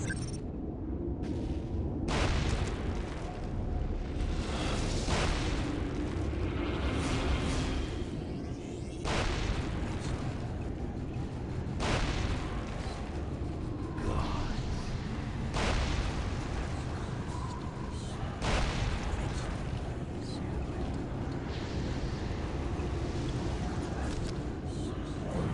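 Artillery fire and explosions from the Into the Breach video game with a Demons and Space Marines mod, sounding as repeated booming blasts every few seconds over a dense, continuous rumbling battle din.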